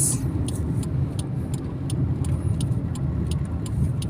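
A car's steady low road rumble and engine hum while driving and turning, with faint rhythmic ticking like a turn signal, heard from inside the cabin.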